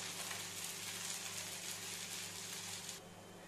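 Steady, even sizzle of a sabudana paratha frying on a hot pan, fairly quiet and continuous, easing off slightly near the end, with no talking.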